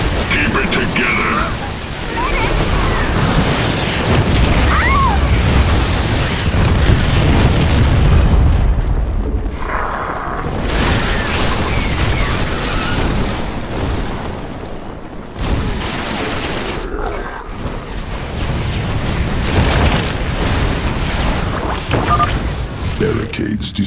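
Barricades blown apart in a StarCraft II Zerg campaign battle, dense continuous rumbling booms and crackling bursts layered with combat noise, loud throughout, with voices talking over it.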